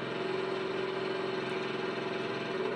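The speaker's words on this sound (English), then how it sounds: "That's the compressor noise" A Bachmann Class 37 model locomotive's compressor runs as a steady, even mechanical hum with a faint buzzing drone, close and unchanging throughout.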